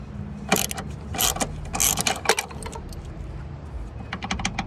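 Close metallic ratcheting and clicking as a bolt is loosened on a car's upper left motor mount, short irregular bursts of wrench clicks and clanks over a low background hum.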